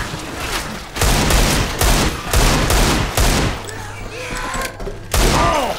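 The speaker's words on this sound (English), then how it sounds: "Would you mind not shooting me" Rapid gunfire in a cooperative zombie shooter, loud bursts of shots repeating in quick clusters up close, with a low rumbling tone and short gaps between volleys.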